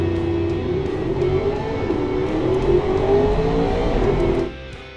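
GT race car engine in a racing video game, revving hard and steadily around a track, its loud droning note climbing and shifting through gears before it drops away abruptly near the end.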